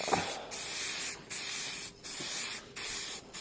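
Short bursts of spray paint from a gun or can lay a coat on a Kawasaki ER5 cafe racer part, about five hissing passes separated by brief pauses, close and steady with no talking.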